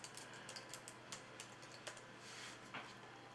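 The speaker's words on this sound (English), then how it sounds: "So let's just type it here." Quick, light clicks of typing on a computer keyboard, irregular and fairly faint, alone in a quiet room.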